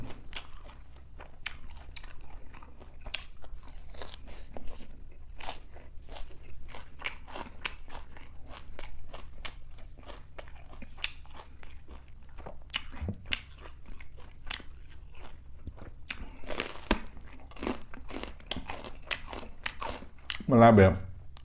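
Crunchy bites and steady chewing of fresh raw vegetables eaten with spicy, bitter Thai beef laab, close and repeated throughout, with crisp snaps and crackles and a louder burst near the end; no one speaks.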